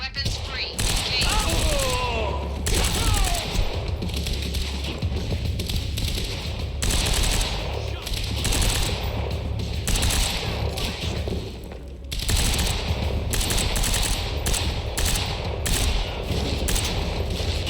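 Sustained automatic gunfire from the video game Quantum Break, dense loud volleys of shots running almost continuously with brief gaps, over game sound effects and occasional voices.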